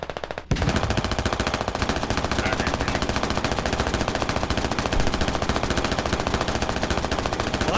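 Sustained automatic gunfire rattles in a rapid, even stream during a military video game battle, loud and continuous after a brief quieter opening, with no talk over it.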